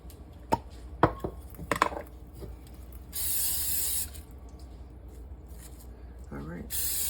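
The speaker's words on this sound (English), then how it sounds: "now you want to spray your bowl." A short hiss of cooking spray coats a mixing bowl for candy corn donut dough in a home kitchen, following a few sharp clatters of handling and ending with brief soft speech.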